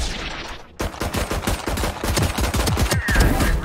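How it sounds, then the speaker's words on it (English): Shotgun and weapon fire in Valorant, a dense run of loud, rapid blasts filling the whole stretch after a brief lull, with no talking. "Ini shotgun."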